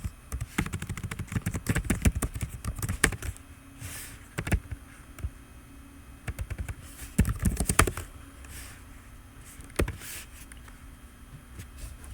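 Keys clack on a computer keyboard as a sudo password is typed, bursts of quick close taps separated by short pauses, with no voice.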